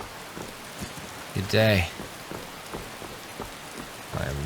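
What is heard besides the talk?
rain falling in a video game (Skyrim)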